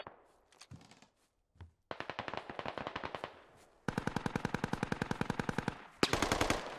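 Rapid automatic gunfire in a squad-based multiplayer shooter game: several bursts of loud, evenly spaced shots, the longest and densest near the end, with a few single thuds before.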